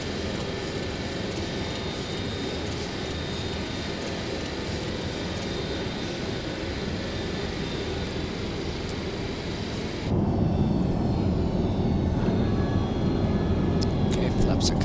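A TWA Boeing 727 jet on takeoff roars as a steady, heavy broadband rush heard from the cabin, growing deeper and louder partway through, with voices talking over it.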